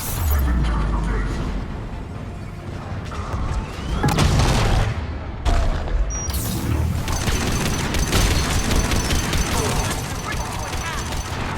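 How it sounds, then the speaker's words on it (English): Gunfire in Mass Effect 3 on Sur'Kesh, loud continuous volleys and booming blasts layered with other combat noise, while a voice shouts over the battle. "Who's shooting me?"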